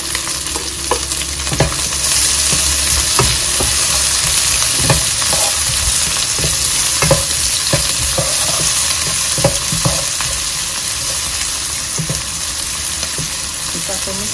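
Spices for tripe and napa cabbage sizzling in a hot pan while being stir-fried, a steady close crackle punctuated by scraping spatula strokes throughout.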